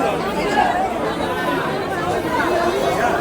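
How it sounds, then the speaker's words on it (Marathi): A large crowd of pilgrims waits for Tirupati SSD tokens early in the morning, a dense, steady murmur of many voices chattering at once, close and continuous throughout. "खतरनाक गर्दी झाल्या."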